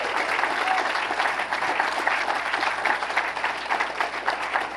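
A crowd applauds steadily, dense clapping holding at an even level throughout without pause.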